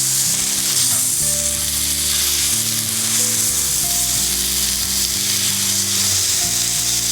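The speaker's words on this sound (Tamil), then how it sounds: "இப்போ நம்ம ஊற வச்சு எடுத்து வச்சுருக்க மீனை இதில் சேர்த்துடலாம்" Marinated sankara fish fries in oil on a dosa griddle, giving a loud, close, continuous sizzle with faint scraping and stirring clinks underneath.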